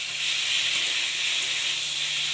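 Panch phoron spices sizzle in hot oil in a wok, a steady, close, even hiss with no break and no talking.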